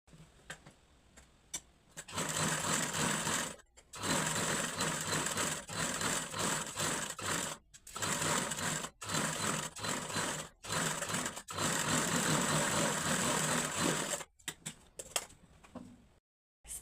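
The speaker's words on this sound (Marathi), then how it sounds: "आता मी ह्या लाईनवर स्टिच मारून घेणार आहे." Sewing machine stitching along a marked line on fabric, loud close motor whirring in long runs separated by brief stops, sounding alone without speech.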